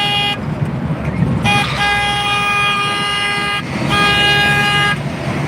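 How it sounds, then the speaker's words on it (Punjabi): A car horn on the road sounds three long, loud blasts from a vehicle on the move, with faint traffic noise and a voice underneath. "ਗੱਡੀ ਦੀ ਤੁਹਾਨੂੰ ਹਾਰਨ ਦੀ ਆਵਾਜ਼ ਆਉਂਦੀ ਹੋਏਗੀ"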